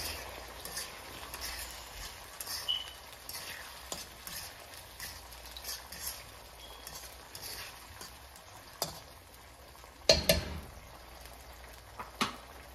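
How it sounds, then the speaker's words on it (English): Jamaican tinned mackerel is stirred in a pot, with soft scraping and light tapping strokes repeating irregularly over a faint frying sizzle, close but quiet, and one sharper clack near the end. "Give that a stir"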